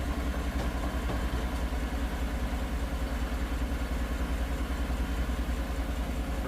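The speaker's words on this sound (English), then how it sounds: "I've already purged the system. Compressor's kicked on." A 2015 Chevy Tahoe with warm A/C idles with its A/C compressor engaged, a steady low engine hum and drone with no speech.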